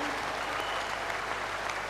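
A church congregation claps together during a praise service, a dense, sustained wave of applause from a crowd that fills the space evenly at steady volume throughout.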